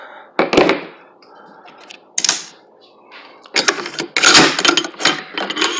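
KP-9 blowback pistol being opened and its one-piece bolt carrier slid out, close metallic clicks, clacks and sliding scrapes arriving in separate bursts with short quiet gaps between.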